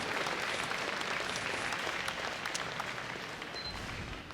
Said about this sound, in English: Let's just give them a big round of applause